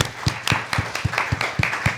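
At a charity social event, quick rhythmic clapping from a small group lands in an even beat, sharp and close, with no voices.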